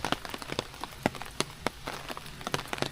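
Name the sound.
rain falling on an umbrella on a mountain trail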